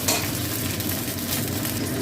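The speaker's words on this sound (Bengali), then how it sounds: "এই ঢ্যাঁড়সগুলো আমি ভেজে নিচ্ছি।" Okra frying in hot white oil in a pan, a steady dense sizzle with faint stirring, close and continuous with no talk.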